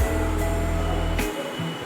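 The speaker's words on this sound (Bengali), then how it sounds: "এবার পেঁয়াজটা সুন্দর করে আমি ভেজে নেব যতক্ষণ না একটা ব্রাউন কালার চলে আসে।" Chopped onions fry in a pan for a chicken dish, giving a dense, steady sizzle heard close and fairly loud throughout.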